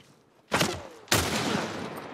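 Two loud rifle shots in the video game The Last of Us Part 1, sharp and close, about half a second apart, the second leaving a long ringing tail.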